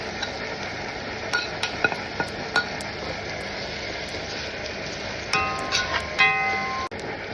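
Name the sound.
garlic and onion frying in oil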